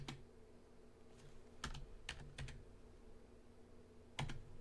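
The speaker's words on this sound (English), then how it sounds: "when I start to type in here" Typing on a computer keyboard while working on a Joomla website, heard as a few scattered, fairly quiet key clicks with pauses between them over a low background hum.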